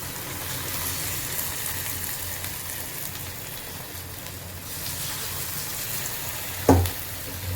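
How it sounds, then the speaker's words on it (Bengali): Rosh bora dumplings fry in hot oil in an overheated wok, giving a steady, close sizzle with a brief sharp clink near the end. "এরপর বড়াগুলো অল্প করে দিয়ে ভেজে নেব।"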